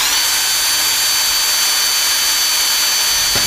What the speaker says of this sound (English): drill the holes, making sure the drill is as straight as possible.